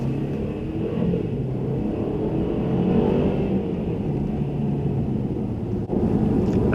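A 2017 Mercedes E-Class drives on the road at night in sport mode with manual paddle shifting, a steady low engine and road rumble with tyre noise inside the cabin, rising and falling slightly with throttle.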